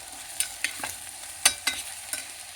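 Vegetables fry in a pan with salt added, a steady low sizzle punctuated by a series of irregular scrapes and clinks as a spoon stirs them, close and clear.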